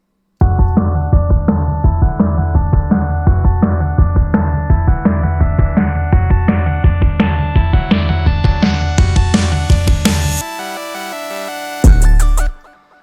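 A loud, busy hyperpop drum and synth loop with an EQ sweep on the master, its high end gradually opening from muffled to bright, then dropping away to a sparse tail and a final burst.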